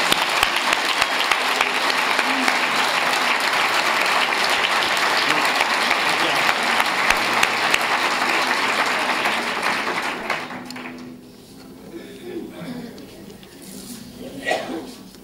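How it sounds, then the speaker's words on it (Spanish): Audience at a book presentation giving sustained applause, a loud even wall of clapping for about ten seconds that then fades into scattered claps and murmuring. "Un aplauso fuerte para todos."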